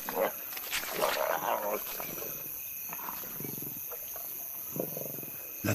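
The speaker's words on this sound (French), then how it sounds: "Après une période de famine et de privation, les jeunes lions peuvent enfin se remplir la panse." Young wild lions feed on prey at night, with low growls and rumbling roars coming in bursts over a constant insect drone, alongside a voice narrating.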